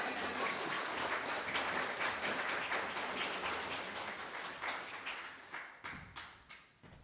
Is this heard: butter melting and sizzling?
no